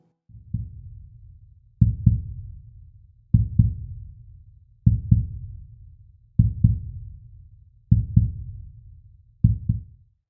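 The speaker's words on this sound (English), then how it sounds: "this time it's the rhythm of a heartbeat" A heartbeat-like rhythm from a space recording: deep, muffled double thumps repeat about every one and a half seconds, seven times in a steady pulse, loud and alone.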